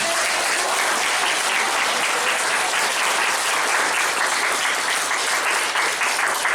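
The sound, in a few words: applause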